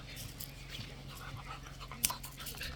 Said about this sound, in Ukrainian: Пес, місцевий пес, до речі, перший раз пса тут побачив.